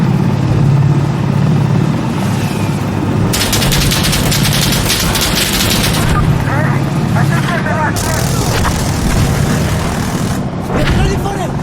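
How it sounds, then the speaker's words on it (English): Helicopter in the tactical shooter Insurgency Sandstorm, a continuous rotor drone under bursts of gunfire, with people talking over the action. "Get inside and stay inside till the helicopter's gone."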